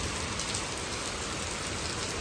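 Heavy rain pours steadily onto surfaces outside, a dense continuous hiss with no pauses, moderately loud and alone without voices.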